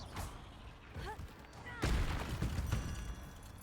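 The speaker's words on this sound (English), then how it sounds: "Incendio!" An Incendio fire spell from the Hogwarts Legacy video game goes off with a burst of crackling, booming blasts that swell midway and keep rumbling. Other game effects mix in, and a voice is heard.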